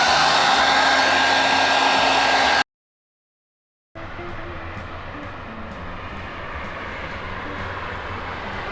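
A hair dryer blows a loud, steady roar while drying wet cycling shoes. It cuts off for about a second, then resumes at a lower, duller level with faint intermittent ticks.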